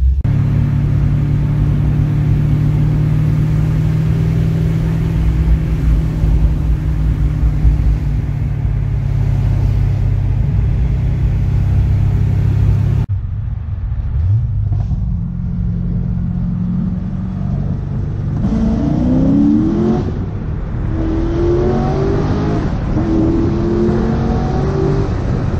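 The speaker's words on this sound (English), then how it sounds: "The exhaust has a nice little bark to it after that." A Corvette C6 Z06 with an LS7 V8 exhaust, first a loud deep droning rumble at steady revs, then after a sudden cut, a series of rising revs and barks under throttle, close and powerful.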